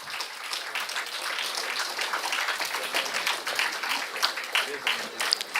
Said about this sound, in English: Give a big round of applause, my dear friends.